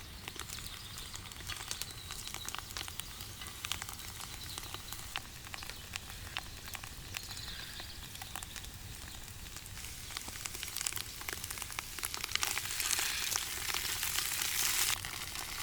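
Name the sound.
wild mushrooms frying in a pan with crushed garlic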